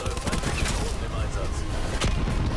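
Grav (Galil) rifle firing in Black Ops 4: dense, rapid bursts of gunfire run continuously at close range, with a voice talking over the shots.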